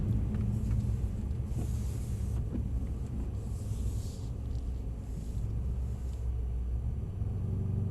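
A Mercedes-Benz car drives on a slippery track, its engine a steady close rumble with road noise throughout and a few faint brief hisses and knocks.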